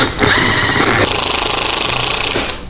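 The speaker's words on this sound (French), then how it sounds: "Là, j'ai installé sur une perceuse." An electric drill, set up as a makeshift wood lathe for small pieces of wood, spins at full speed with a loud, steady whirring buzz close by, then winds down at the end.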